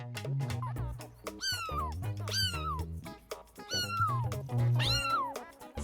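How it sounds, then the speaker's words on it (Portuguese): A cat meows four times in clear succession, each a loud, close, rising-then-falling call separated by short pauses, with no talking. "Qual é o nome do som do gato?"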